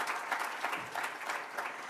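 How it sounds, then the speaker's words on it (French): An audience at a lecture applauds a guest, a steady, full patter of many hands clapping at moderate volume, with no voices over it. "Je crois qu'on peut applaudir Patrick."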